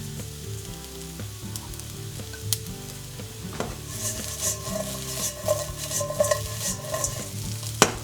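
Tempeh sizzles and fries in a hot wok with oil while being stirred, steady frying hiss with scraping and clinks of utensil against metal, close and continuous, no talk.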